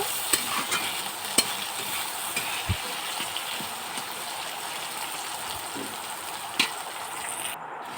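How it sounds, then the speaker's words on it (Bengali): Chopped onions fry in a pan with cumin, ginger, chili and garlic, giving a soft continuous sizzle as they are stirred, with occasional utensil taps and scrapes. "এরপরে ভালো করে নাড়াচাড়া করে পেঁয়াজগুলো ভালো করে ভেজে নেব।"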